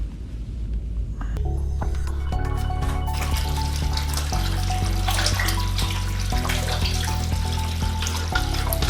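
Water from a hose pouring steadily into a 125 gallon aquarium fitted with a 3D rock background, a loud continuous rushing splash that swells after the first second and holds alone to the end.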